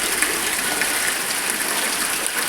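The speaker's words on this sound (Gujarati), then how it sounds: "ફૂલ વરસાદ પડે છે" Heavy rain pouring down in a steady, loud, dense hiss of drops on surfaces, unbroken and without any voices.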